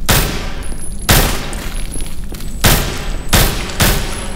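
Gunfire from the zombie shooter game No More Room In Hell: five loud, sharp shots ring out at irregular intervals, each leaving a short ringing tail, with no talking.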